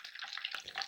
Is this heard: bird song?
no